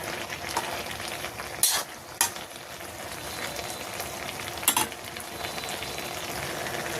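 Lyata fish frying with pumpkin greens in a pan on a village kitchen stove, a steady sizzle with occasional stirring scrapes and a few sharp utensil knocks, no talking.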